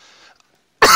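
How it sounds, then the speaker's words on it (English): A single sharp, loud cough bursts in close to the microphone right at the end, after a moment of faint noise and near silence. "I was here coughing to death"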